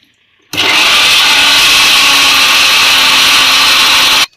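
A mixer grinder grinding fenugreek paste whirs loudly and steadily for a few seconds, starting abruptly and cutting off cleanly, with no voices.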